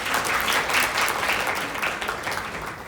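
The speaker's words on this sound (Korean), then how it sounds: "박수 부탁드리겠습니다" Audience applause at a Bank of Korea symposium session following a professor's climate change presentation, steady dense clapping from a room full of people sustained for about three seconds with no talking over it.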